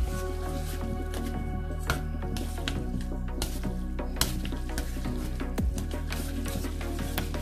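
Chopsticks stirring volcanic instant noodles with garlic in a pot, producing wet squishing and soft sizzle under a steady low hum, dotted with sharp clicks and taps at irregular moments.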